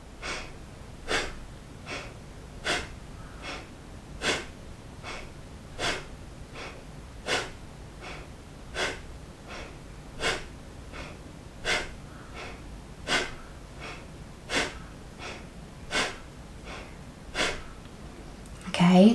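A person does belly breathing during a yoga session, with short, sharp breath bursts repeating at a steady rhythm, close and clear over quiet room noise.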